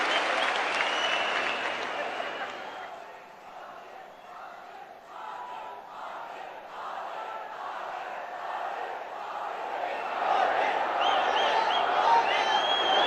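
A large political rally crowd in Karnataka applauds loudly and continuously, a broad roar of clapping with mingled shouts that dips slightly midway and then swells again.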